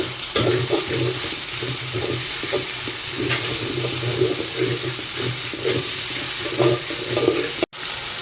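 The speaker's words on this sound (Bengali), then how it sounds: "এখন ভালো করে একটু পেঁয়াজের সাথে আদা বাটা, রসুন বাটাটা মিশিয়ে নিচ্ছি।" Onion frying with ginger and garlic paste sizzles steadily in a pan, broken by rhythmic scraping strokes as the mix is stirred, close and fairly loud with no talk.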